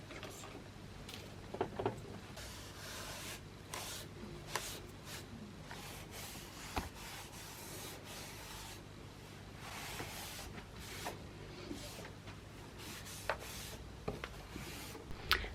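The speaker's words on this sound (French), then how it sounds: "je vais chercher un petit chiffon et des produits pour nettoyer ça, faire toute la poussière ici" A cloth with cleaning products rubs and wipes dust from surfaces in a dressing room, a soft steady scraping with small knocks and taps now and then. Quiet and close, no speech.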